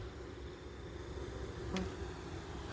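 Honeybees fanning their wings at the entrance of a beehive at night, a dense, continuous low buzzing drone recorded up close, steady throughout with a brief faint tick near the end.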